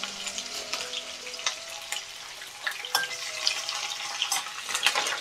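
Chillies and curry leaves frying in hot oil for a Maharashtrian masala bhat, a steady close crackling sizzle with scattered sharp pops and spits throughout, no voices.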